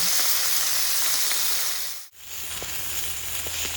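Pieces of boal fish frying in a pan, giving a loud, continuous sizzling hiss that dips for a moment before carrying on.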